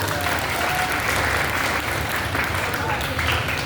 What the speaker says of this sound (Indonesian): Tepuk tangan lebih ya.